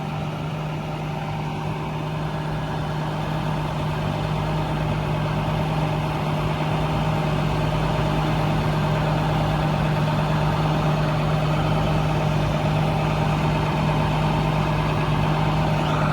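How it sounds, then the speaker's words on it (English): The engine of an International 4300 digger derrick truck idles continuously with a steady low rumble and hum, unchanging throughout, close and fairly loud. "You can speed up and slow down the engine."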